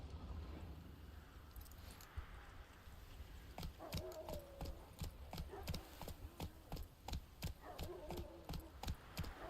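Hooves of Roach, the horse in the video game The Witcher 3: Wild Hunt, clip-clop in a steady, even rhythm that picks up pace. Each step is crisp and distinct over a soft ambient backdrop.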